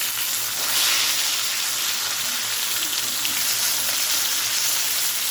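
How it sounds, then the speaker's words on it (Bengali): Rohu fish pieces coated in salt and turmeric frying in hot oil, a steady close hiss and crackle of sizzling that carries on unbroken throughout. "লবণ হলুদ মেখে ভাজি করে নিচ্ছি"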